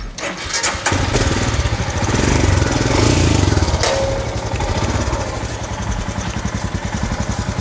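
A Royal Enfield Scram 440 motorcycle engine starts and settles into a steady, throbbing idle, loud and close, with a rapid even chugging rhythm.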